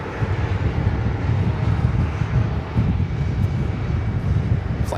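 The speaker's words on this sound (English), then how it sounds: "There's a JetBlue Airbus A220-300 pulling into Terminal 5." A JetBlue Airbus A220-300 taxiing into Terminal 5 at JFK airport gives a steady, loud, low engine rumble with wind noise, continuous throughout and no talk.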